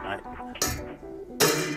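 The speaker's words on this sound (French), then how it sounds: "petit coup de marteau" Light hammer taps on metal during repair of a 1943 M16 half-track, two sharp bright strikes about a second apart, close by, with voices talking around them.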